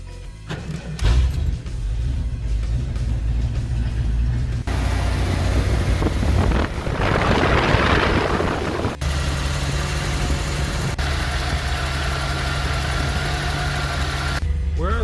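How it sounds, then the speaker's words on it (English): An old Ford F250 truck with a 460 engine idling outdoors, a steady close rumble with wind buffeting the microphone and a brief louder gust midway. "this old truck's been out here running out for about a half an hour"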